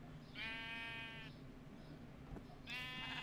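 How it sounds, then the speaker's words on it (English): Sheep in Minecraft bleating twice, a long wavering bleat followed by another after a short pause, close and clear over a low steady background hum. "There's more sheep over here."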